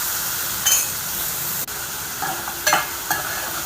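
Ivy gourd curry with onion, salt and turmeric frying in a pan, a soft continuous sizzle with a few quick stirring scrapes and light clinks close by.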